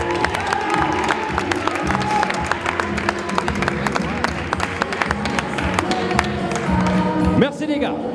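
A crowd at a Quebec Games Olympic boxing event applauding four boxers, dense continuous clapping and cheering throughout, loud and close, with a voice speaking over it.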